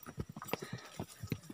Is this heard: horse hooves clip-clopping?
yes